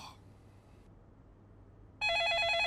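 A telephone bell rings loudly in a law firm office, its insistent electronic trill bursting in after a stretch of quiet room tone and continuing to the end.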